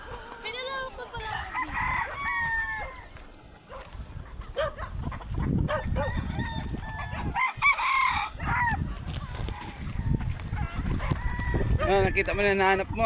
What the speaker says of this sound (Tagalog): Siyempre, sa dami ng manok eh.